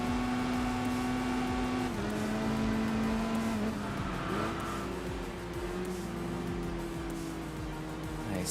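A Nissan R32 GT-R in the racing game Enthusia Professional Racing, its engine droning steadily with shifting pitch as it accelerates and changes gear, with light tire noise and other cars nearby, no voices.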